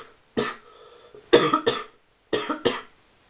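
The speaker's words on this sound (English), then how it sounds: "Please excuse my coughing." A person coughs in three separate fits, each a quick pair or trio of harsh bursts with brief silences between, close and fairly loud, with no talk.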